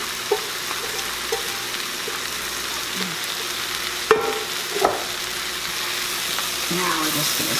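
Buttered egg noodles and cabbage are stirred in a frying pan, giving a steady soft sizzle with a few scraping clinks of the spoon and faint shuffling of the food.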